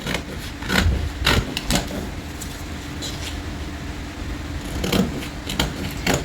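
Scissors snipping through fabric while cutting out pieces for boxer briefs, a series of crisp, close cuts in uneven bursts with short pauses between them, no talking.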